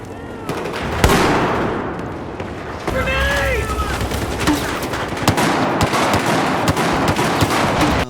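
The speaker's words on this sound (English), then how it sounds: "when you shoot these guns in a game like Battlefield 4" Rapid bursts of automatic gunfire from guns in the Battlefield 4 video game, loud and dense with overlapping shots and game battle noise, steady throughout.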